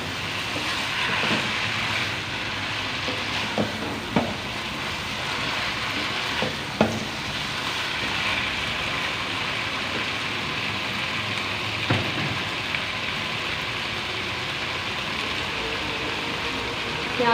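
Potatoes and cauliflower fry in a pan with spices, giving a steady, moderate sizzle, and occasional stirring knocks and scrapes rise above it.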